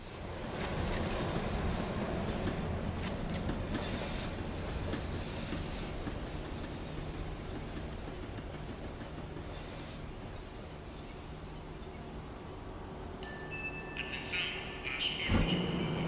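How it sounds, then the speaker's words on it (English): A tram in Max Payne 3 rolls along its rails and slows, a steady loud rumble with squealing wheel tones throughout, ending in a few sharp metallic clanks and hisses. "The tram was slowing down, and I'd only just gotten on board."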